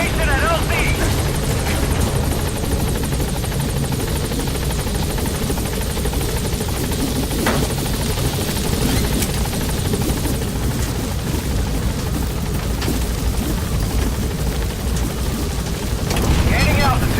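The B-Quad helicopter in Metal Gear Solid V arrives at a landing zone, its rotor thumping and turbine roaring loudly and continuously, close by, with a radio voice talking over the noise.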